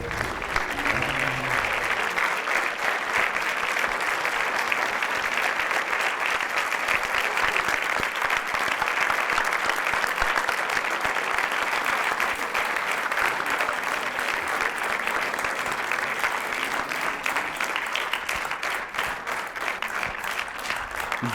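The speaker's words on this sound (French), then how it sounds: "un tonnerre d'applaudissements pour Olivier Nakache" A theatre audience greets film director Olivier Nakache with a thunderous, sustained round of applause, dense and steady clapping filling the room for over twenty seconds with no break.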